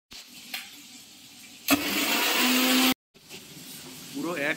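A kitchen mixer grinder blending chili, ginger and garlic into paste roars loudly in one burst of a little over a second, set between quieter stretches where a person talks.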